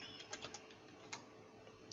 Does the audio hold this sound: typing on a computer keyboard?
yes